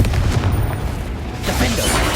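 Bombarda and Confringo spell explosions boom in Hogwarts Legacy, loud dense blasts with a fresh burst midway over continuous rumbling game noise.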